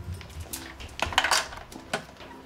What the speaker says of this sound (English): Can I put this in the dishes, Anna?